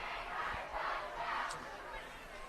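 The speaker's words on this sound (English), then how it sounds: "you can sure hear the crowd's awful happy about it" A football crowd at a Fort Morgan high school game roars and cheers from the stands, a broad sustained swell of voices heard from a distance.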